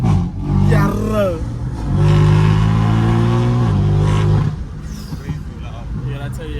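A BMW M3 F80 with an equal-length exhaust revs hard and loud, rising and falling in pitch over a steady rumble, with people talking over the engine.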